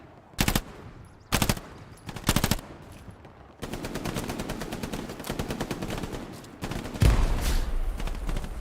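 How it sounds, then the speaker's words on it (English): Thompson submachine gun fire in the WWII shooter Hell Let Loose: three short bursts, then sustained rapid automatic fire with a heavier blast near the end, loud and close. "Just can't hit you with my Tommy gun."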